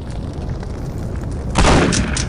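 Gunfire in the video game Postal 2 cuts in sharply after a steady stretch of game noise, a loud broadband burst that holds at higher level to the end, with no talk over it.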